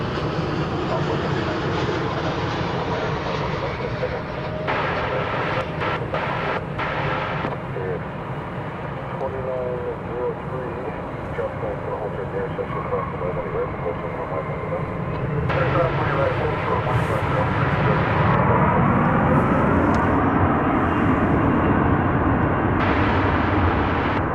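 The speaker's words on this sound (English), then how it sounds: "Here comes American Airlines flight 2029 from El Paso, Texas" An American Airlines Boeing 737-800 on flight 2029 from El Paso arrives at DFW Airport, a sustained jet rumble and whine that grows louder toward the end while someone talks throughout.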